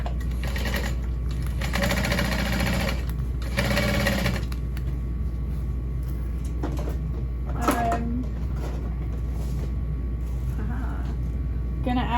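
A sewing machine top stitches a backpack in two sustained bursts of rapid, even stitching, then falls quiet while faint handling noises follow in a room with a steady low hum.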